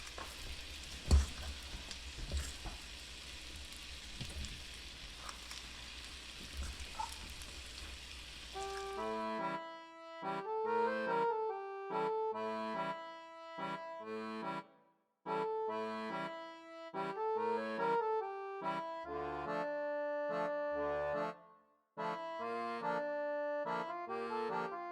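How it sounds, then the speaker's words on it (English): Small homemade IKEA-style meatballs frying in a pan, giving a steady crackling sizzle for about nine seconds before music takes over. "Here are the smaller meatballs cooking."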